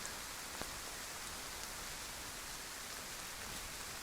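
Rain falls in the survival video game DayZ at night, a steady soft hiss of broadband patter with a faint tick or two, quiet and unbroken.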